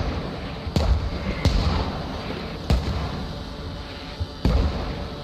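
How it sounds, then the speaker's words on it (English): Mortar shells exploding in the video game Squad: four heavy, booming impacts at irregular intervals over a noisy battlefield background, fairly loud and without speech. "Alright, mortar shots in now."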